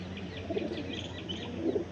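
A golden pigeon coos softly close by, two low throaty coos about a second apart against a quiet background, with faint higher chirps in between.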